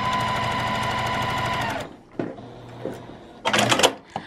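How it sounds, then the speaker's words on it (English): A sewing machine stitches steadily through a quilted zipper pouch for nearly two seconds, a rapid even whir that stops abruptly, followed by a few fabric rustles and a short burst of handling noise. "I am gonna run a stitch right here about 1/4 inch away just to kind of secure it down"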